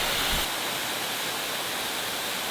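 Steady broadband hiss of a PVC pipe irrigation system spraying water across grass, continuous and even, with a brief low thump at the start.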